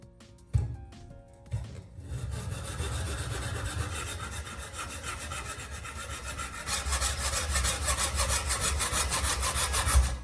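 Carbon cores pulled from batteries being shaped by rubbing or sanding into replacement brushes for an angle grinder, a steady close abrasive scraping that runs nearly throughout and grows louder and brighter toward the end, with no talk.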